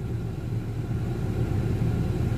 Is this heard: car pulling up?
yes